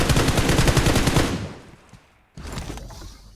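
Rapid automatic gunfire in the video game PUBG Mobile, a loud sustained burst of shots that fades out, a brief pause, then a second burst starting up.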